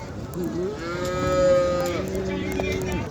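An HF cow at a cattle market in Sangola, Maharashtra moos once in a long, drawn-out low call, close and loud, with faint background noise.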